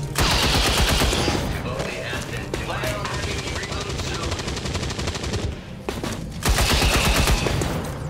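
Rapid automatic gunfire in XCOM 2: War of the Chosen, dense bursts of shots rattling loud and close in several volleys with short gaps, and a voice talking over parts of it.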